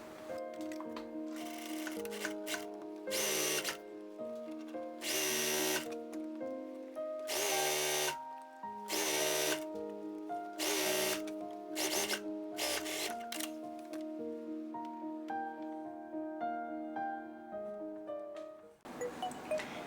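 A sewing machine stitches the hem of scalloped-lace culottes in a series of short, whirring runs separated by pauses, with a steady musical backing underneath.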